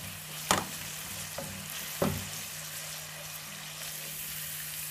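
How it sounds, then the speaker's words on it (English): Two large onions frying in a heated pan, a steady close sizzle throughout with a few sharp clatters of stirring near the start. "In a heated pan, we're going to fry some onions"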